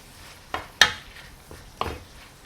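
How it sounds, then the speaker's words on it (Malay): Onion, garlic, shallot and ginger saute in a pan for a beef short rib curry with banana stem, with a soft steady sizzle broken by a few sharp clinks and scrapes of stirring, close up and without voices. "kita biar dulu lah sampai dia tumis tu, sampai bawang tu semua brown"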